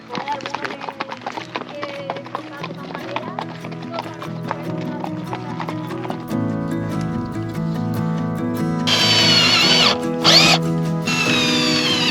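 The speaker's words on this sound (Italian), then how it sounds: "mentre noi facciamo lavori ogni tanto passa anche un po' di gente a cavallo" Horse hooves clip-clop in a steady rhythm as riders pass along a country road where a camper van conversion is under way, fairly close and continuous, with tonal background sound swelling toward the end.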